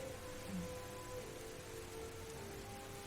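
Steady rain ambience plays as a backdrop during a tabletop role-playing session, set on a dreary night during a watch shift, with a soft continuous patter and low hum running evenly and alone throughout.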